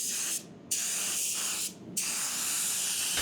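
Spray gun laying clear coat onto a new raw bumper cover, a steady close hissing spray in two long passes broken by short pauses, with no voices.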